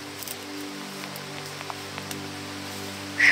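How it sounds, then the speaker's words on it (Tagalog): Heavy rain falls steadily as a constant hiss with scattered drop ticks, over a low electrical hum, with a short sharper burst at the very end. "Lumakas na yung ulan, Brad."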